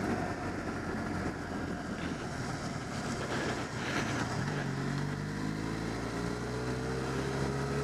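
Benelli Leoncino motorcycle accelerating in third gear, a steady engine drone that rises in pitch as it pulls, with constant wind rush over the microphone and no talking.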